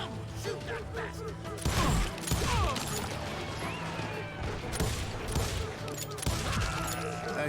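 Scattered gunshots ring out in Call of Juarez: Gunslinger, a Western shooter, with several sharp cracks amid a busy battle soundscape and a voice speaking over it.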